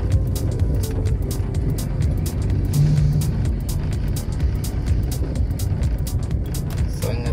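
Heavy highway traffic of cars and large trucks near km 14, a continuous loud rumble of engines with passing vehicles and occasional revving, no talk over it.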